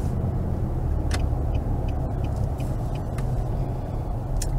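A car drives onto the South Georgia Technical College campus in Americus, Georgia, with a steady low road rumble heard from inside the cabin and a few faint clicks over it.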